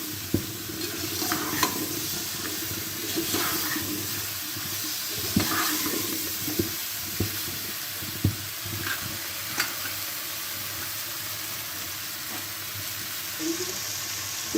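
Spices, garam masala and chopped green chili being stirred into a potato filling for aloo paratha over medium heat: intermittent spoon scrapes and knocks over a steady low sizzle, close by.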